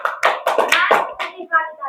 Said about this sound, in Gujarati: આના માટે એક વાર તાળી પાડ્યો